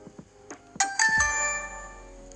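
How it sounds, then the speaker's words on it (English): Startup tone from a 3-in-1 action camera powering on: a few soft clicks, then a bright multi-note electronic chime that rings and slowly fades, heard alone and close. "I'm now gonna turn the camera on and I want you to listen to the startup tone."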